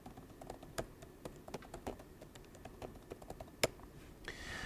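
Keys tapped out on a computer keyboard while entering a password, an uneven run of soft, close clicks with one sharper keystroke near the end.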